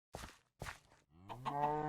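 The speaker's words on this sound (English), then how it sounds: "Come on, cows." Cows in Minecraft give two short grunting calls and then a longer drawn-out moo, close and fairly quiet.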